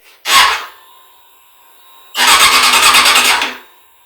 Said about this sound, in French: On ne veut pas que le moteur démarre, on va juste le faire tourner.